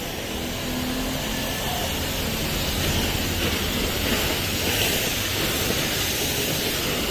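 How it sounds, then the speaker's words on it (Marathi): A steady, dense hiss of water spraying against a car during its first service, continuous and fairly loud with no pauses. "आपण फक्त पाणी मारून घेतो आहे"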